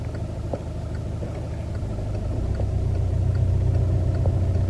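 Car driving slowly in first gear, a steady low engine rumble from inside the cabin that swells slightly, with a few faint clicks and no talk.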